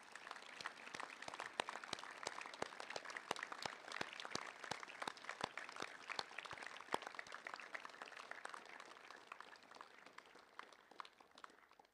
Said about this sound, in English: Gentlemen, please join me in a round of applause for all the teaching and support staff here at King's High School.